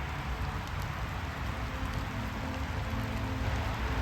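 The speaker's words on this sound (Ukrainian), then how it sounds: "І дощик січе так кайфово" Steady rain falling with an even broadband hiss and low rumble, continuous and moderately loud, no voices.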